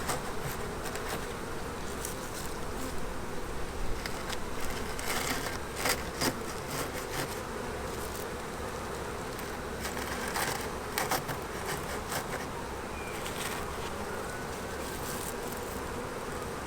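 Honey bees hum in a steady, dense drone throughout a nuc transfer into a Maisemore commercial poly hive, close and continuous, with occasional light clicks and handling noises over the buzz.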